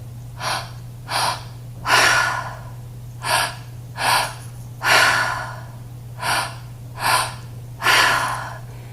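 Deep, forceful breaths during a winter solstice breathwork exercise come in a series of about ten rhythmic inhales and exhales, close and loud, over a low steady hum, with no talking.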